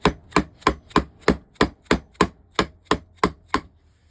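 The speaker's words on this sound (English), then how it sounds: "So let's see if we can get a little hammer in." Hammer blows striking a Lucas starter motor during disassembly, about a dozen sharp metallic knocks in a steady, even rhythm, close and loud, with no talking.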